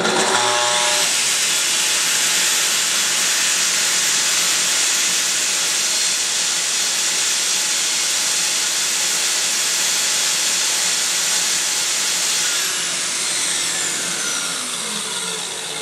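A saw cutting a 15 mm deep pass through a hall table drawer front, guided by stops, producing a loud, continuous rushing whine for nearly the whole stretch that tapers off near the end.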